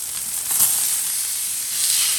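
Pork ribs on a Blackstone flat top grill outdoors give off a soft, steady hiss that swells briefly as the rack is flipped, then settles into an even sizzle.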